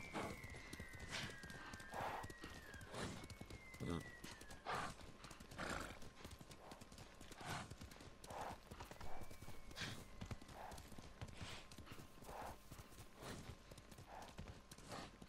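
A galloping horse in Ghost of Tsushima pounds out steady, rhythmic hoofbeats for the whole stretch, up close, with a couple of whinnies rising over the hooves early on and midway.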